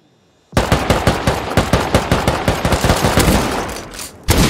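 Automatic gunfire in the online survival game Rust, a rapid loud burst of evenly spaced shots lasting several seconds after brief silence, followed by another shot at the end.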